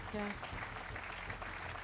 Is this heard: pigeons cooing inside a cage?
no